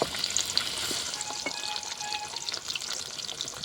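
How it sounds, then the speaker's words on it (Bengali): Potatoes frying in oil in a pan for a traditional Bengali dish, giving a steady close crackling sizzle with small pops and the occasional scrape of turning, and no voices. "উল্টে পাল্টে ভালোভাবে ভেজে নেব"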